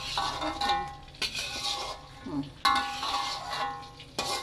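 Garlic and shallots sautéing in a pan give a continuous close sizzle, broken by several sharp clinks and scrapes of a utensil against the pan.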